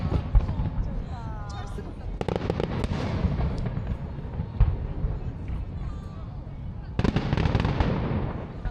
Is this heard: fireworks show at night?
yes